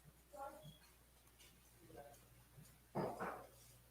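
A dog whimpers in a few short, faint whines that come and go against a quiet room background, followed by a louder rustling burst near the end.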